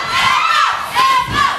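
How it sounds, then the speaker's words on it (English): A wrestling crowd at a live match yells and shouts in loud, sustained waves that swell and ease, a dense wall of voices filling the arena. "This crowd yelling for F off."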